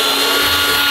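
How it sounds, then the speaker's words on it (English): Power drill boring pilot holes into a DIY compressor-airline heat exchanger, a loud steady high-pitched whine held for under a second with no talking. "Just going to pre-drill the starter holes with a decent drill."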